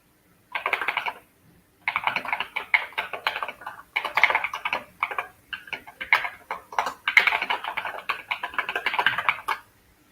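Fingers tap rapidly on a computer keyboard in close, irregular bursts of clicking, pausing briefly near the start before continuing in dense clusters of keystrokes at a moderate level.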